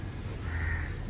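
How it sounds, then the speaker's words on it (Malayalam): A crow gives a single drawn-out caw, moderately close, over a steady background hiss with no voices. "കാക്കയുടെ ശബ്ദം"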